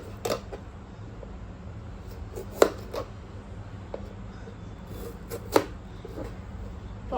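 A knife chops through a tomato on a board with a few sharp, spaced knocks, two of them standing out clearly, over a low, steady background hum.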